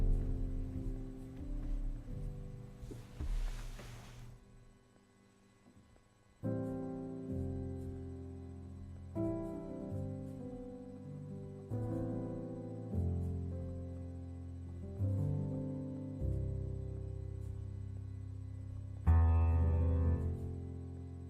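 Music from the Noire plugin with its stereo widening effect applied, playing as a steady run of sustained chords and notes with no talking.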